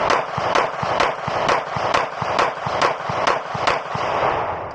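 Rapid, evenly spaced shots from a Glock 19 pistol, about ten sharp cracks in quick succession, close and loud with no talking.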